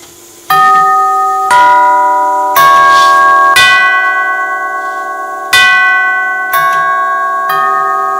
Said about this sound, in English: And now we'll go ahead and ring the 8-note front door ring.